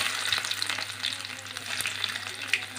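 Cinnamon, cloves, cardamom and chopped ginger fry in hot oil in a pan for an egg stew, giving a steady, close, even sizzle with a few light crackles throughout and no voices.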